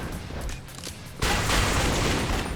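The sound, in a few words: grenades exploding on zombies, from video game Yakuza Dead Souls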